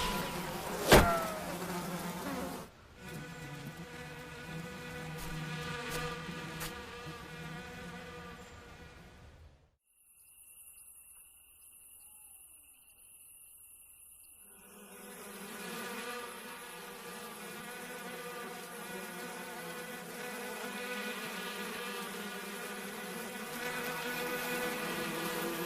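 Steady insect-like buzzing of bees fills the air, a continuous droning hum that drops away briefly midway, leaving a thin high whine, then swells back to a full, even buzz.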